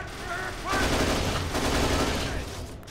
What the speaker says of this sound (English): Someone shot me in the head from close range.